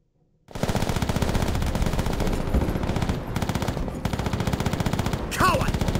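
Sustained rapid automatic gunfire from the Call of Duty: World at War mission battlefield, loud and near, a dense continuous rattle of shots after a brief quiet start, with a sharp whistling effect near the end.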